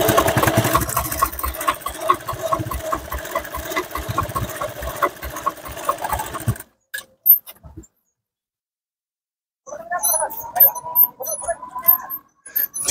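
A sewing machine stitches blouse fabric with a steady, close mechanical whirr for several seconds, then stops; after a pause come brief handling sounds and a short burst of running again.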